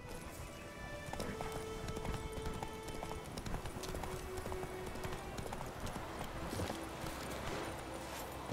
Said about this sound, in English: There's horse.